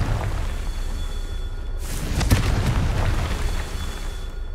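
A booming magical blast from the Confringo spell in Hogwarts Legacy, one heavy explosion with a sharp crack at its peak over a low rumbling game backdrop, no voices.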